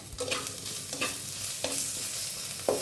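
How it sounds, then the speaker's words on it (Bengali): Tomato and green chili fry in spices with a quiet, even sizzle, punctuated by several sharp scrapes and taps of a spatula stirring against the pan, and no speech. "মশলার মধ্যে আমি টমেটো আর কাঁচা লঙ্কাটা দিয়ে দিলাম"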